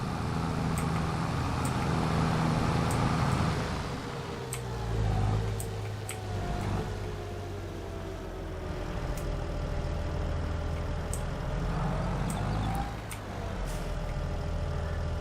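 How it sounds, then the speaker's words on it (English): Road traffic passes by steadily in Farming Simulator 22, a continuous hum of car and truck engines swelling and receding with a faint ticking throughout. "Oh, some of the traffic they've got going by, awesome."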